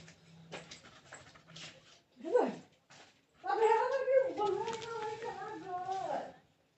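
A cat gives a quiet, drawn-out, wavering meow, preceded by a few faint, short cries and soft background noise.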